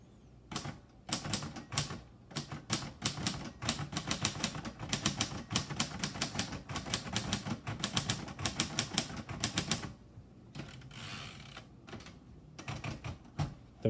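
Typing on a 1955 Royal Quiet DeLuxe typewriter: a rapid, steady run of close mechanical keystrikes with a brief pause and carriage movement near the end, then more keystrokes, with no talk.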